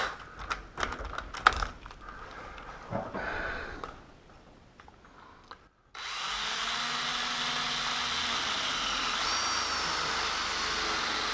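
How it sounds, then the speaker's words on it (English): A cordless drill bores a 1-inch hole in a door, starting after some handling clatter and quiet moments, then running as a steady loud whirring grind with a shifting pitch through to the end. "and then I can drill my 1-inch bore here."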